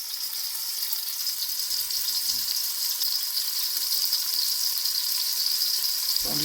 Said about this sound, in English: Nice hot pan here, that oil sizzling in there.